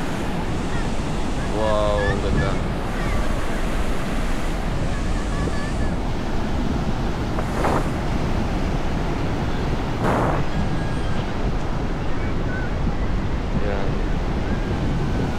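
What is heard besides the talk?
strong sea waves and wind at Jesolo beach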